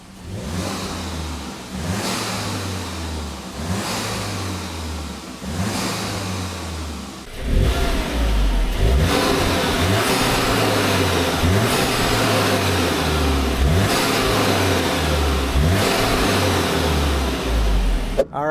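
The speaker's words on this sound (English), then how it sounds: "now let's give it a few revs and we'll see how it sounds" A VW MK8 GTI engine fitted with a loud aftermarket air intake revs repeatedly, loud and close, with rising and falling bursts; later it drives on under sustained heavy acceleration.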